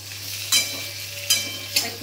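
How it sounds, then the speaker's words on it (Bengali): Ripe but firm seeded tomatoes frying in a pan are stirred in three distinct scraping strokes, with a soft sizzle and a steady low hum underneath; nobody speaks. "একটুখানি নেড়ে নেবো।"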